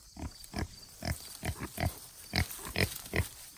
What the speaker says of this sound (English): These are Kune pigs.